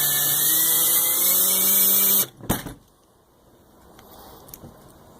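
A drill bores slowly into a rivet with a loud, steady high-pitched whine for about two seconds, then stops abruptly with a sharp clack and quieter handling noises afterward.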